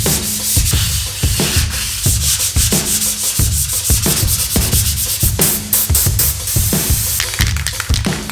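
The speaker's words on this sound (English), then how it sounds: "Now I just got to sand the primer down and then paint it red again." Primer is sanded by hand on the body of a BMW E36 with an LS1 swap, a loud, close, continuous rasping scrub in steady back-and-forth strokes, with no talking.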